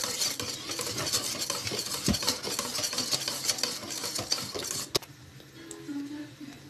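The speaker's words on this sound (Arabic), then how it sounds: "ودابا غنخلط معاكم، نخلط الجوانب داكشي اللي في الجوانب حتى هو يتخلط" Couscous being stirred and mixed, including the grains along the sides of the dish, giving a steady close scraping and rustling with occasional sharp knocks, then quieter after a final clack.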